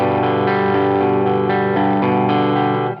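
Clean electric guitar played with a very light touch through a volume pedal, a few soft sustained chords and notes swelling gently, ringing with a slight chorus shimmer before fading at the end.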